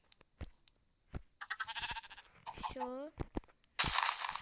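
Sheep in Minecraft give several short, wavering bleats, close and clear, between bursts of game noise, with a voice talking quietly at points.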